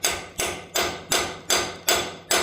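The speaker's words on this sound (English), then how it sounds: "I got a big old race punch. And somewhere, I got a hammer. We just give it a couple of twacks." A hammer beats a big race punch seven times in a steady, even rhythm, each blow a sharp metallic crack close by, while packing is replaced on a 544J loader.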